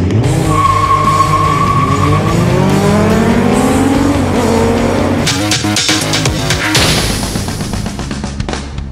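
A motorcycle and a car accelerate hard side by side, the engines rising in pitch through the gears with tire noise, loud and close, then a sudden burst of rough, broadband roar as one passes by, no talk.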